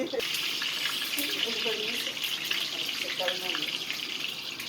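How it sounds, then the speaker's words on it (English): Steady crackling sizzle of mole ingredients frying in hot oil, continuous throughout, with faint voices and kitchen movement underneath. "We're just frying everything, and then everything's going in the blender."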